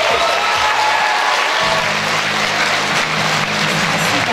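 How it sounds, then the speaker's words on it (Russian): A concert audience applauds a children's dance ensemble taking the stage, a continuous broad wash of clapping from a large crowd, steady and fairly loud, with low rumbling stage noise underneath. "давайте им подарим аплодисменты"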